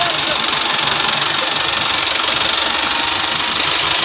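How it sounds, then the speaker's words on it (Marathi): A tractor brought to a village religious procession runs its engine with a steady, close mechanical chugging and vibration throughout. "हा ट्रॅक्टर आलेला आहे"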